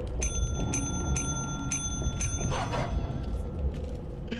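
Bell being rung in the video game Lethal Company, six bright metallic dings in a quick, fairly regular series, each with a ringing tail, over a steady background rumble; a short noisy burst follows near the end.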